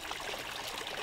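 Water streams steadily from a village fountain spout, a close, even splashing trickle with no voices over it.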